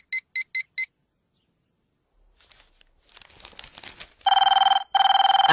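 A telephone ringing in a comic film scene, heard as a loud electronic ring in quick bursts: four short pulses at the start, then after a quiet gap and some rustling, two sustained ringing stretches separated by a brief break.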